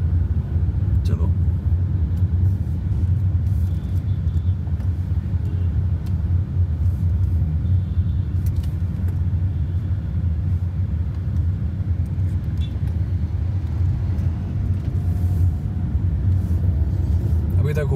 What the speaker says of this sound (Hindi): and usually there is a lot of traffic here